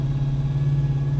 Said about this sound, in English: Exhaust is amazing. Just got that really muscle car sound to it.